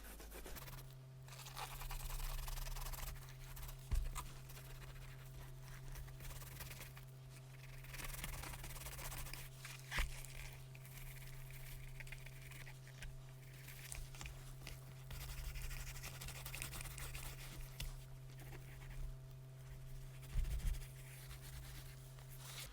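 Soft, continuous rubbing as renovateur is worked by hand into crocodile leather Prada driving loafers, a faint close scratchy friction with occasional light taps over a steady low hum, no talking.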